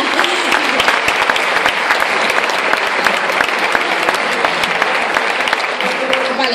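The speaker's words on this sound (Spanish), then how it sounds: "Un aplauso también para ellas, claro." An audience at a municipal ballet school recital in Gáldar claps steadily and loudly, a dense patter of many hands that continues without pause across the whole stretch.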